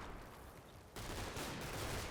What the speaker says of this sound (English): I believe that's German artillery falling in the field behind us